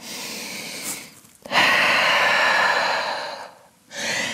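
A deep, long breath is drawn and released during a yoga downward dog pose, close and breathy, followed by the start of a second inhale.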